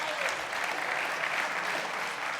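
A live audience at a Los Angeles talk event breaks into steady, full applause, a continuous wash of many hands clapping throughout.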